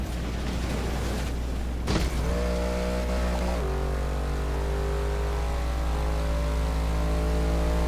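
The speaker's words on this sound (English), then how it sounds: "A Jeep with a big ass V8 Hemi" A Jeep with a V8 Hemi engine in a Forza racing game gives a loud, steady low engine drone with a brief burst of noise, then shifting harmonic tones as the revs change.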